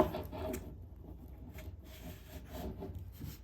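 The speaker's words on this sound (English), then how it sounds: "So these adjust just by turning counterclockwise, kind of loosen that up, and then it'll slide out." A Trakiom lightweight shooting tripod leg is twisted loose and slid outward, giving close, quiet scraping and rubbing with a few soft clicks and no voices.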